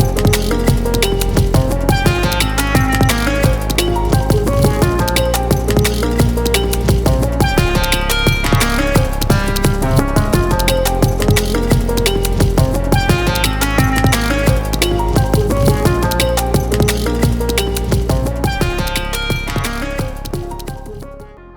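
An Instruo Seashell analogue monosynth plays a chopped-up pattern built from different takes, a dense, loud run of rhythmic pitched stabs and tones that goes on without pause and fades at the end.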